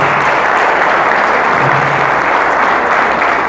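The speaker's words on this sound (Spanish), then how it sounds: "Fuerte aplauso para todos ustedes." Comedy show audience giving a strong, loud round of applause, dense continuous clapping filling the room throughout.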